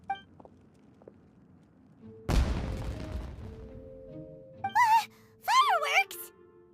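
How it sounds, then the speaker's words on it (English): Fireworks explosions in a video game quest: a sudden loud crackling burst of blasts that decays over about a second, followed later by whistling, rising and falling tones, with game music underneath. "It sounded like fireworks."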